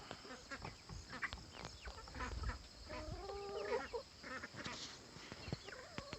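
Several domestic ducks quack nearby in irregular bursts, mixed with calls from other farmyard fowl, including laying hens, and rustling.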